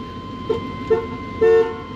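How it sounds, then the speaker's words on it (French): Three short horn toots from a 1995 GMC Sierra 1500 Z71 pickup with a faulty, intermittent horn contact, two quick beeps then a slightly longer honk, close and clear over a low background hum. "Le klaxon fonctionnait quand je l'ai testé."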